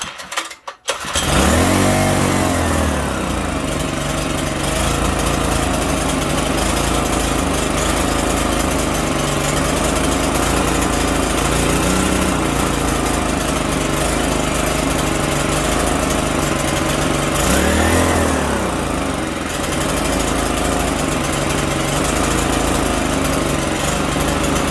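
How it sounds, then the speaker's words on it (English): Small Honda engine runs steadily and loudly for the whole stretch, idling high with a constant buzzy drone, a brief start-up burst at the beginning and a slight dip in pitch near the middle; no talking. "I think I have to adjust the idle on or something. It idles very high."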